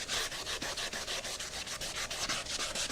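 A guitar body's sides are hand-sanded with sandpaper wrapped around a pool noodle, producing a close, steady rhythmic rasp of quick back-and-forth strokes, about six per second, with no talking.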